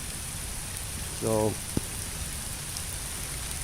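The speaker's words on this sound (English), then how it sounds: "now it's raining like a sieve out here." Steady heavy rain pours down outdoors as a continuous hiss, with a brief spoken word and a sharp knock breaking through midway.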